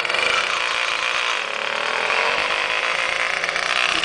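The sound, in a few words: cold engine misfiring while warming up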